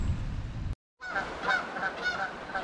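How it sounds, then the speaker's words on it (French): A flock of geese flying over snowy trails in the Coaticook area, honking repeatedly in overlapping calls at moderate distance after a brief gap of silence. "On voit un beau voilier d'oie."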